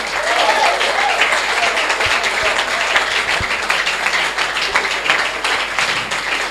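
A church congregation applauds steadily through a Sunday service, dense clapping from many hands filling the room at an even level from start to finish.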